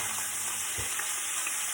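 Onions sizzle flat side down in a hot pan, a faint, steady frying hiss with no speech, alone and even for the short stretch.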